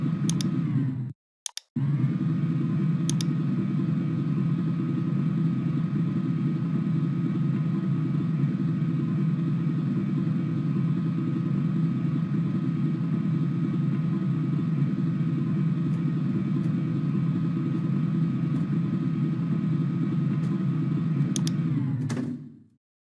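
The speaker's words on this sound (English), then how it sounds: "if I activate this tag, related to the belt conveyor motor," A simulated belt conveyor motor in Factory I/O drives boxes along, giving a steady, loud, continuous low rumble and hum that runs almost unbroken for over twenty seconds, with a brief dropout near the start and a few faint clicks.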